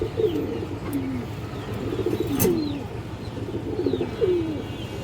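A Giribaz pigeon cooing close by, several repeated rolling coos spread evenly across the stretch, over a low steady background hum.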